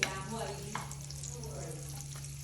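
Soft, steady sizzling of gram flour roasting in ghee in a hot pan, with a few scraping stirs and a low hum underneath.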